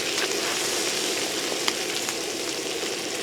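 Bacon frying in a pan at home, with a steady dense sizzle and faint crackles and pops that continue evenly throughout, close and fairly loud with no talking.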